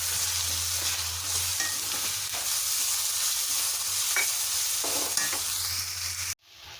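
Steady close frying sizzle from a pan of ginger chitranna, a South Indian ginger rice dish, with occasional stirring scrapes, running alone until it cuts off abruptly near the end.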